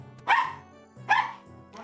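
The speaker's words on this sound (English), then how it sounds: "Just when dogs aren't so loud." Dogs bark loudly in three sharp, separate barks spaced about a second apart, close by, with a low hum between them.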